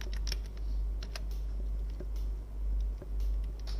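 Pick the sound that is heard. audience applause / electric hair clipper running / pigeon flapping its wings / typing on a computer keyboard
typing on a computer keyboard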